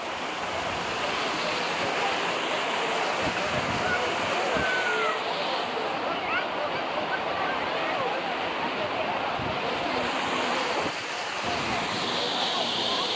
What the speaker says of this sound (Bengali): ঝর্ণা জলপ্রপাত